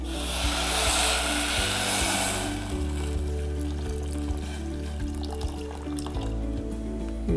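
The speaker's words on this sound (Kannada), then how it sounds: "ಇದಕ್ಕೆ ಒಂದು ಸ್ವಲ್ಪ ನೀರು ಹಾಕೋಣ" Water poured into a pan of grated jaggery for a Karnataka rice and chana dal payasa, a steady liquid rush and trickle that fades into a soft bubbling sizzle, with no talking.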